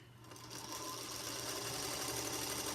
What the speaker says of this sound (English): I'm making my little 1/4 inch seam down the long side, right side of my two 12-inch strips